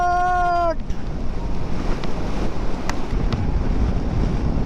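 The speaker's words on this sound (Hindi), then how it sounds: "बहुत तेज हवा चल रही है यहाँ।" Strong wind roars steadily on a high mountain road in Ladakh, a loud, continuous buffeting rush close to the microphone, briefly preceded by a fading tonal whine.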